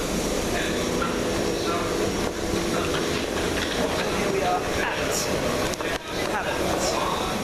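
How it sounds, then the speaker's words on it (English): A passenger train at Havant station rumbles and hisses loudly on the platform, a dense continuous noise with brief squeals, heard close and with no clear speech. "It'll be my train to Cosham."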